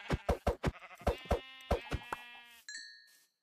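Several short sheep bleats from Minecraft repeat in quick succession, close and clear, followed by a bright ringing chime near the end.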